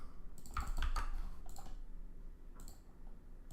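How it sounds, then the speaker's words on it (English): Computer keyboard typing in a short cluster of soft clicks during a live stream, close but faint, with pauses between the bursts and no talk. "Probably the only thing you guys are hearing is my keyboard"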